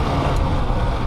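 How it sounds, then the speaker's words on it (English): A 2020 KTM 300 XC-W dirt bike engine runs steadily on a trail ride, a continuous broad motor drone with wind rush, loud and close, with no pauses or voices. "it's just amazing how smooth these bikes are, smooth that motor is"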